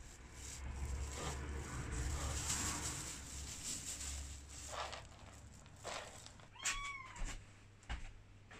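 A rescued kitten gives several short, thin meows near the end, faint and close in a quiet room, after low background hum and soft indoor noises.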